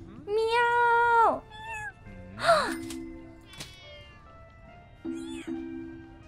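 Cat meows in the video game Espresso Tycoon: a long drawn-out meow, a shorter rising one, then brief later mews, with a human voice imitating a meow among them.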